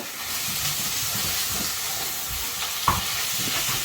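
Vegetables such as chow chow and pumpkin wilt in a hot pan, giving a steady, close sizzle with frying hiss. Occasional stirring scrapes break through, and one sharper clink is heard.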